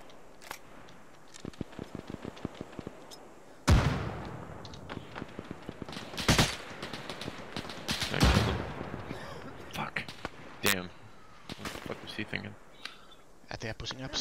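Bursts of machine gun fire and scattered gunshots in the Arma 3 video game battle of Hakamäki, with several loud, sharp volleys near 4, 6 and 8 seconds amid clicking, under someone talking.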